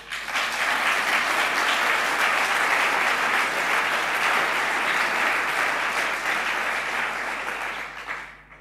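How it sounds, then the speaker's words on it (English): A graduation audience gives a sustained round of applause for the graduating class, full and steady for several seconds before tapering off at the end. "I think we should applaud our class."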